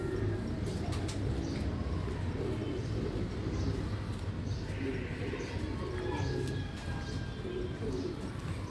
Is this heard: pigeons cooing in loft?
yes